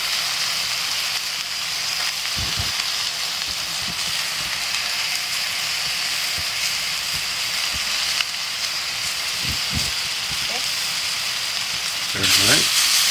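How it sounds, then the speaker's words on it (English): Chuck roast sears on a Blackstone griddle in a steady, close sizzle that runs throughout, with occasional clanks and scrapes of a spatula, while someone talks quietly over it. "pieces like this, I actually want to hand sear it on the edge, on the raw edge"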